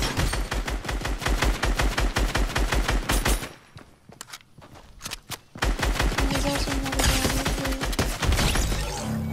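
Rapid automatic gunfire from a Fortnite match, dense bursts of loud repeated shots that break off into a brief lull before heavy firing resumes, close and continuous.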